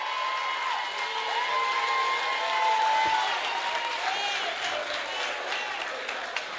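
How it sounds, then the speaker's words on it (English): An audience applauds steadily with a dense wash of clapping, joined by faint cheering and whistles from the crowd. "A round of applause."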